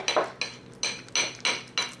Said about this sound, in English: you can just give it a good mix